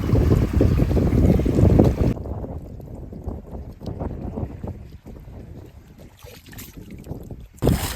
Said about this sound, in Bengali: প্রচন্ড হাওয়া উঠে গেছে নদীর মাঝখানে, আর বৃষ্টি হচ্ছে